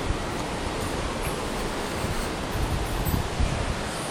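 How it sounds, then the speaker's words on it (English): Ocean surf washes steadily onto a beach as a continuous broadband roar with some wind buffeting, no voices. "There's a freaking beach"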